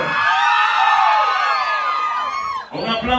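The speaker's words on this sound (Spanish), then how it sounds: "Un aplauso para la dama de rojo" Crowd cheering and shouting for a woman in red at a lively gathering, with whoops over a dense roar and a voice cutting in near the end.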